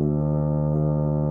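Tuba playing D with valves 1 and 2 down, a short, steady, sustained low brass note heard up close and on its own.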